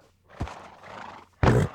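A horse in Minecraft whinnies in two short bursts, the second louder and closer, with faint hoof sounds between them and no talking.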